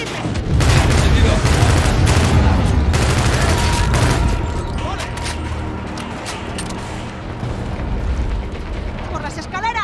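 Dense gunfire in the video game Call of Duty Infinite Warfare, a loud sustained fusillade with booming blasts that eases slightly after a few seconds, under shouted combat voices.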